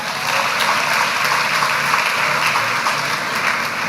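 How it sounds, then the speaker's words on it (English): Loud, close, sustained applause from a crowd of new undergraduate students at a university orientation, cheering their chaplains in a dense unbroken wash of clapping. "can we get another round of applause for our chaplains?"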